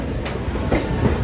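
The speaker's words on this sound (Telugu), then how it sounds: "మన ట్రైన్ విజయవాడ జంక్షన్ నుంచి బయటకు అయితే వెళ్ళిపోతుంది" A train pulls out of Vijayawada junction in India, a steady close rumble of rolling wagons with faint rhythmic wheel clatter running throughout, no voices.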